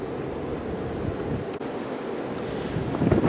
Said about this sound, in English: Man, the wind's really picking up.